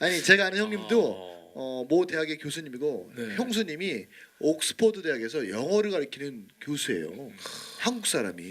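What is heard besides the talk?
No distinct noise like a dog, phone or traffic.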